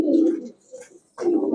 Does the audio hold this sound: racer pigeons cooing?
yes